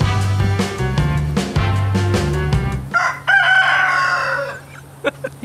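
A rooster crows loudly over clucking chickens, then the crowing gives way to scattered clucks and squawks nearby.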